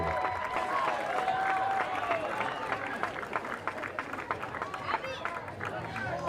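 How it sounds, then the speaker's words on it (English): Crowd applause at a 2024 CIF-SS high school baseball game between Crescenta Valley and Arcadia, a steady spread-out patter from the stands mixed with crowd noise and talk throughout. "Round of applause for Mr. Spencer."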